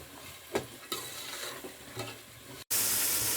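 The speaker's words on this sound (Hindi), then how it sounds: "मटर डालने के बाद हम इसको 2 से 3 मिनट मजीद भुनेंगे।" Peas for pulao fry in a pan, giving a continuous sizzle with a few scraping stirs of a spoon, and the hiss swells abruptly louder near the end.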